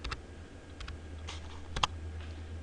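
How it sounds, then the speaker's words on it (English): Several quick, quiet computer keyboard keystrokes sound in short bursts, a few isolated clicks, then one sharper key press near the end over a low background hum. "Click into the box and type the result manually."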